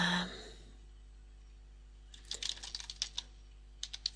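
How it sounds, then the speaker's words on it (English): Typing on a computer keyboard: two short clusters of rapid key taps after a brief breath, close and fairly quiet, with no talk over them. "And we'll type in test."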